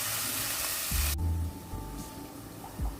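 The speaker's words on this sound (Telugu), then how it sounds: "ఆనియన్స్ బాగా ఫ్రై చేద్దాం, ట్రాన్స్లూసెంట్ వచ్చేవాళ్ళు" Onions frying in oil in a pan until translucent, a moderate sizzle with soft stirring thumps, the bright hiss dropping away partway through.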